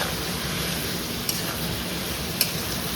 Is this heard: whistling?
no